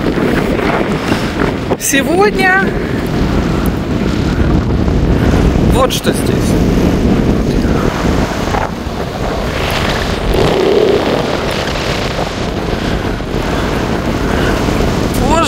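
Strong wind buffets the microphone at the harbour in Honfleur, a steady loud roar with gusty bursts running throughout, while a person talks over it.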